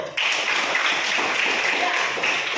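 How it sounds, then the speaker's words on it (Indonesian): Children in a classroom applaud together after answering a teacher's questions about plastic and cloth insulators, a steady dense burst of clapping that starts abruptly and holds evenly at close range. "tepuk tangan untuk anak-anak dulu"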